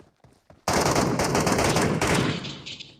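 A DBS shotgun in the Metro Royale video game opens up suddenly after a quiet start, with loud, dense firing that holds steady for about two seconds and then tapers off.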